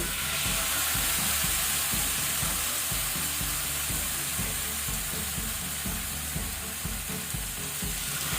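Masala-coated fish frying in a pan on a low flame, a loud, dense and continuous sizzle with a steady crackling texture throughout, close up and alone.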